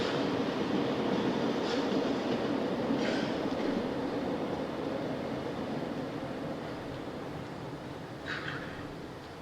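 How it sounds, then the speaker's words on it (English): A train rumbles past steadily with a broad, rolling roar and faint metallic squeals, then slowly fades. It is heard at an outdoor public talk in Saanen, Switzerland, with no speech during the passing. "we'll wait for the train."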